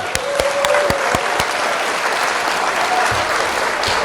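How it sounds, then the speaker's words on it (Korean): A seminar audience in London applauds, a steady mass of clapping with a few sharp, close individual claps standing out near the start, continuing evenly to the end. "박수 한번 부탁드릴게요"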